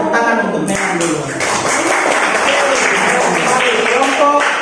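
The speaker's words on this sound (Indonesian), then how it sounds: "baik kita tepuk tangan untuk Melan dulu." A group claps for a student named Melan during a classroom coaching session, a steady dense wash of applause at close range that fills the whole stretch, with voices mixed in.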